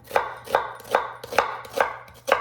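A knife chops an onion into small quarter-inch pieces on a board, six crisp evenly spaced strokes in a steady rhythm, close and clear.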